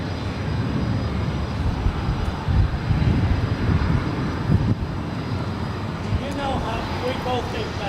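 An ITA Airways airliner in all-white livery lands at LAX, a steady broadband roar of jet engines rising and holding near, with a voice talking over it throughout.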